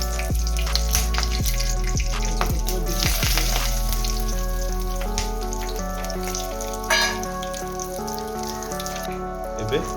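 Whole spices, a piece of cinnamon and whole green chillies fry in hot oil for an Odia fish masala curry, giving a loud, steady sizzle with sharp crackles and pops through the first few seconds, then settling into a constant hiss.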